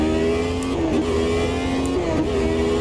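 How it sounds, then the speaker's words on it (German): A classic 1991 Formula 1 car accelerating at Adelaide in Automobilista 2, a loud, close, high-pitched engine whine climbing through gear shifts, steady and unbroken, with no talk. "Kurz hinauf beschleunigt in den fünften Gang und dann in diesen Knick hinein nach rechts."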